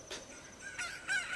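Rooster crowing in Zelda Ocarina of Time Master Quest, a short game crow rising over a brief moment, moderately loud and alone with no talk.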